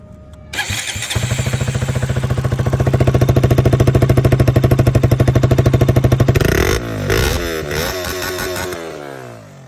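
A KTM Duke motorcycle engine fires up after a brief crank and settles into a loud, close, steady rhythmic idle, then shifts to a rougher, uneven note near the end.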